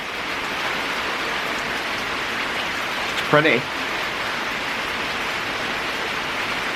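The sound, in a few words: hard rain falling outside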